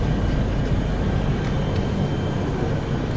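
Tirupati–Puri Express LHB train rolling into Gudur Junction platform, a loud continuous low rumble of wheels and coaches, steady and close throughout with no voices over it.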